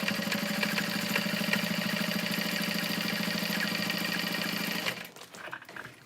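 Sewing machine top stitching a leather bag, its motor running in a steady rapid rhythmic whir for several seconds before stopping, followed by faint handling noises.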